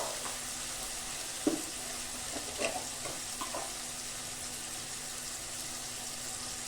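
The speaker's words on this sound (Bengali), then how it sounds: "এক চামচ রসুন বাটা দিয়ে দেবো।" Garlic paste frying in a pan for a potol chingri curry gives a steady, fairly faint sizzling hiss, broken by a few soft clicks and spoon taps around the middle.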